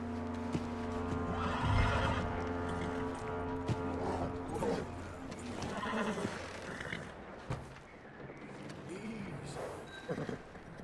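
A horse in Red Dead Redemption 2 whinnies loudly near the start, followed by snorts, hoof clops and shuffling movement against a low background hum.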